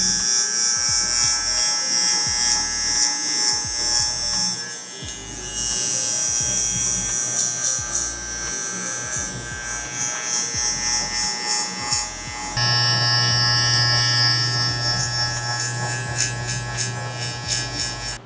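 Electric shaver buzzing steadily while trimming hair, close and continuous, its motor tone shifting in pitch and loudness as it moves across the head.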